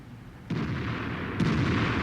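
A JgPz E 100 tank destroyer's cannon booms twice in World of Tanks, two loud, sharp blasts about a second apart, each leaving a heavy rumbling tail under steady battle noise.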